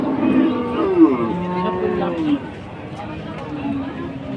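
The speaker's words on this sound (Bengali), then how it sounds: "দেখতে পাচ্ছেন এপাশে আরও একটি বড় একটি ফ্রিজিয়ান ষাড় গরু" A large Friesian bull at a crowded cattle market for the Eid sale, giving a drawn-out deep moo up close, heard over nearby talking and the general bustle of the market.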